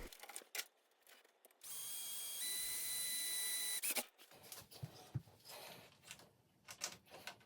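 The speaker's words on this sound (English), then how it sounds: "And then I had to drill one more hole for the wires to come through." A power drill bores one more hole for wires during a washing machine start switch repair, a steady high whine lasting about two seconds between quiet handling clicks and taps.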